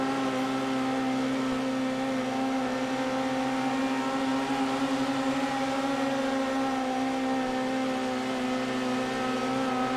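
Dirt-track midget race cars in the World of Outlaws racing game drone wheel to wheel in a steady, loud, continuous engine whine with sustained high-pitched harmonics, no talk over it.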